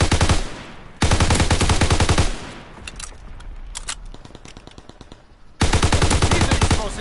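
Automatic gunfire in the Call of Duty WWII video game on PS4, two loud sustained bursts of rapid machine-gun fire with a stretch of scattered shots and softer combat noise between them, close and dominant.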